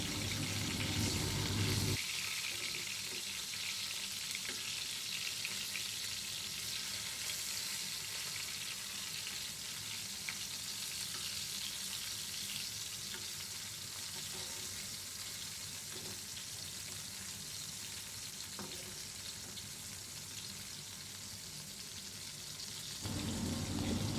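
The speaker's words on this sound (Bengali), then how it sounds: "এটাকে খুব অল্প জালে ভালো করে ভেজে নিতে হবে" Hilsa fish tail frying in oil on low heat for a mashed-fish dish, a steady soft sizzle with faint hiss and occasional small pops, continuous and fairly quiet for the whole stretch.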